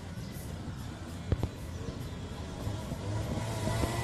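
A two-stroke Honda Dio scooter accelerates on a test ride, its small engine buzzing steadily and gaining pitch, fairly faint and mixed with road and wind noise.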